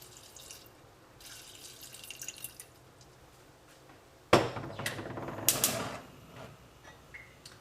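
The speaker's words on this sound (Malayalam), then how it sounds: "കുറച്ച് വെള്ളം ഒഴിക്കാം." Water is poured from a vessel into a pot of chillies, arriving as a sudden splashing gush after a quiet stretch of faint drips and clinks, then easing into a few smaller pours and trickles close by, with no talking.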